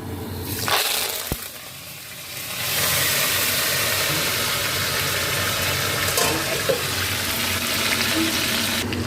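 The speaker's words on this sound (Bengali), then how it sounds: "এবার আমি এতে এই যে কারি পাতা, জিরে, সর্ষে আর মেথি এই আর কাঁচা লঙ্কা ফোড়নে দেবো" Curry leaves, cumin, mustard seeds, fenugreek and green chili drop into hot oil for tempering, giving a loud, steady broadband sizzle and crackle after a brief quieter start, with no talking.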